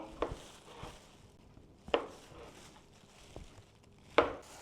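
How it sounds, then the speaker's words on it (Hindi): Knife chopping kiwi fruit into slices on a cutting board: four sharp, separate cuts spaced unevenly, fairly close, with no talk. "अब ये कीवी फ्रूट है, इसके आप स्लाइसेस बना लें।"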